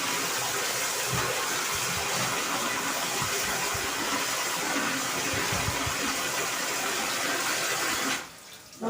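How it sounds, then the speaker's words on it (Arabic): Steady, full rush of clean rinse water pouring out and splashing close by for several seconds, cutting off abruptly near the end. "شوف الميه نازله ازاي، ميه نازله نضيفه."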